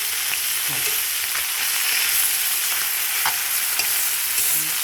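Food being stirred and fried in an iron wok, a steady bright sizzle with scraping spoon strokes at irregular intervals, close and fairly quiet, no voices.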